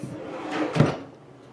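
A hotel room drawer slides with a soft wooden rumble and shuts with a dull thud, close and brief, with no talking.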